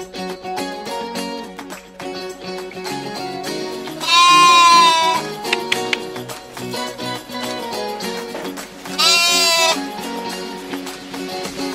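Two loud sheep bleats, each about a second long, ring out over steady background music during a livestock health check on a farm, with a long gap between the calls.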